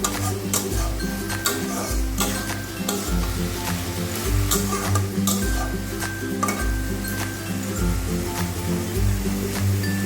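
A spoon scrapes and clinks steadily in a pan of frying soybean and ash gourd shukto, a Bengali vegetable dish, with rhythmic stirring strokes over a continuous close sizzle.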